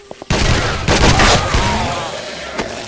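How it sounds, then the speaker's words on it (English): Gunfire in the zombie survival game 7 Days to Die: a couple of small clicks, then loud heavy shots whose booming echoes overlap and slowly trail off, with one more sharp report near the end. "Wow, some horrible shooting going on there."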